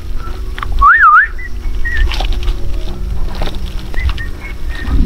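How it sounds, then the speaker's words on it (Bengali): A person whistles a wavering tune nearby and is answered by an Asian koel calling from the left side, with short whistled notes and bird calls over a low outdoor rumble while cycling. "ভাই শীষ বাজিতেছে আর কোকিল কিন্তু পুরাই রিপ্লাই দিতেছে"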